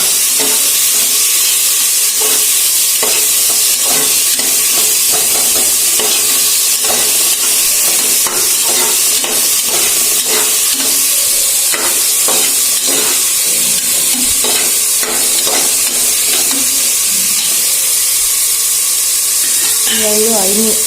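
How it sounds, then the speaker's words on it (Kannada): Brinjal frying in oil in a pan for vangi bath, a steady close sizzle broken by frequent sharp clicks and scrapes of stirring throughout. "ಈಗ ಇದನ್ನ 5 ನಿಮಿಷ ಚೆನ್ನಾಗಿ ಎಣ್ಣೆಯಲ್ಲಿ ಡ್ರೈ ಮಾಡ್ಕೊಳ್ಳೋಣ."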